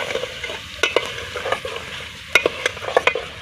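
Potatoes are stirred in a pan for potato and spinach curry, with a steady frying sizzle and clustered clanks of a spoon against the pan, close and loud, with no voices.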